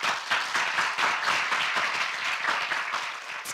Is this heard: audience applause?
yes